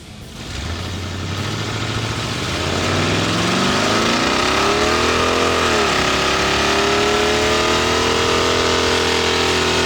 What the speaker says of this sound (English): You guys deserve a burnout.